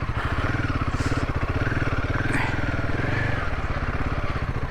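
An off-road motorbike rides along a mountain route in the hills near Bhimtal, its engine a steady, close, throbbing drone with a rapid even pulse throughout, mixed with wind rush and no clear talk.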